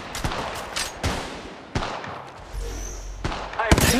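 Gunfire in the mobile video game Apex Legends Mobile: sharp, close shots fired in quick bursts with short gaps, some crackling volleys, and faint game voice lines under them.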